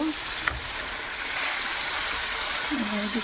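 Water poured into a pan of cooking roast gives a steady, rushing hiss that runs the whole time at a close, even level, with one brief click near the start.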